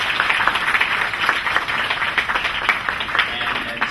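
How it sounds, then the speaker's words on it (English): A crowd of audience members applauding at a political event for a New York City comptroller and mayoral candidate, steady dense clapping close by with faint voices under it. "Let's give him a round of applause."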